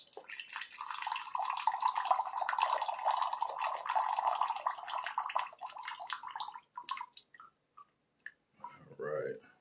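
Brewed Dehong mini tea brick tea being poured off into a vessel, a steady near splashing stream for several seconds that then breaks into a few trailing drips, with a brief voice at the end.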